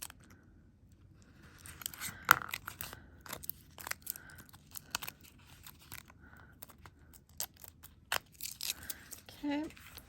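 Scissors snip and trim metal tape and aluminium foil while a paper-craft piece is being finished, giving soft crisp cuts and crinkles scattered between stretches of quiet, with some handling noise near the end.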